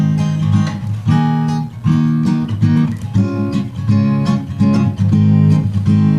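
A harmonic chord progression in a song, with the five chord turned minor, plays alone as steady sustained chords that change every second or so, loud and full.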